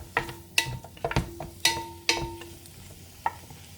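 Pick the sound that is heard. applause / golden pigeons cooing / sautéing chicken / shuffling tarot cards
sautéing chicken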